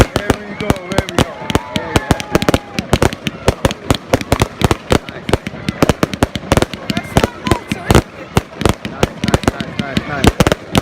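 A Guy Fawkes Bonfire Night fireworks display at Trailfinders, West Ealing, sounds as a continuous barrage of sharp bangs and crackling pops at irregular intervals, some loud and close, others more distant, with voices briefly audible early on.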